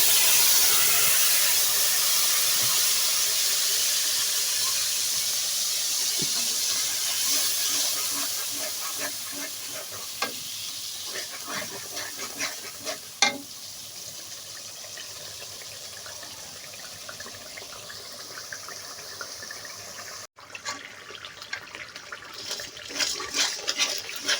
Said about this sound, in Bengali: এখন যাই তেলের মধ্যে মশলাগুলো ঢেলে দেবো